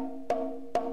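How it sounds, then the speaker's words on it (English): Two sharp, cracking conga slap hits about half a second apart ring over a sustained tone, close and fairly loud. "one is the slap, which is the loudest sound"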